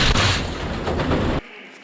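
Gas cannon blast driven by a small gas cartridge, firing a stunt dummy out through the windshield in a film motorcycle crash stunt: one loud, close, explosive burst that cuts off sharply after about a second and a half.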